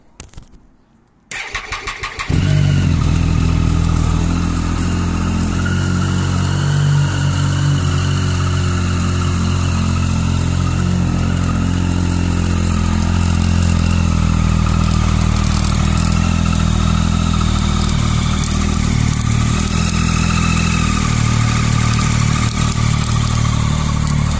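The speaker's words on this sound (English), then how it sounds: "Now, we're going to start this up together. I've not started this bike yet." A 21,635-mile Triumph Street Triple R 675 motorcycle cranks briefly, catches and fires up, then settles into a steady, loud, close idle with a slight clatter that continues unbroken for over twenty seconds.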